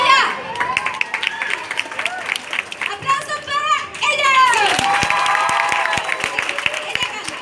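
An audience applauds and cheers for a contest winner at a comics convention show in Acapulco, lively crowd noise with children's voices and shouting mixed in throughout.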